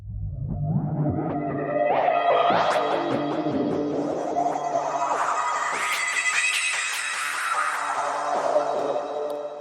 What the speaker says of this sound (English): when I'll engage the chorus, as you can see, we have a fixed rate of 2 bars for the internal LFO